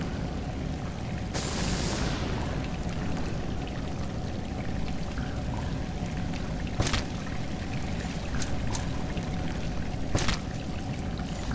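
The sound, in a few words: waterfall in video game Salt and Sanctuary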